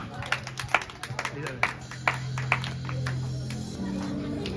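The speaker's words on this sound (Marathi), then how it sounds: "टाळ्या" Scattered claps from a small crowd at a Navratri prize giving for children's games, a few sharp hand claps spread over several seconds rather than a full burst of applause, with a steady low hum and some murmuring underneath.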